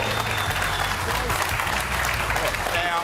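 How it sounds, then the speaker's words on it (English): Studio audience applause rolls on steadily for about three seconds at a live sports panel show, dense and even from start to finish with no pauses. "keep the applause going"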